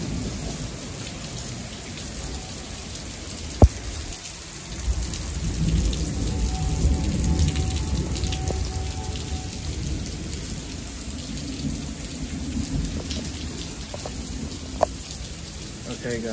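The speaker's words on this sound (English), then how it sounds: "it's been raining all day" Steady heavy rain pours outdoors as a broad, continuous wash, with low rumbling swells suggesting thunder and a couple of sharp isolated knocks; no one speaks.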